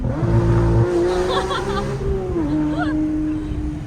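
A manual Porsche 992 GT3 engine revving on flat-foot downshifts, a rising and falling engine whine with a sharp rev step midway, heard from inside the car under someone talking.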